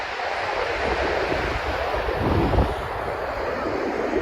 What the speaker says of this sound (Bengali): তো এখানে হাওয়া দিচ্ছে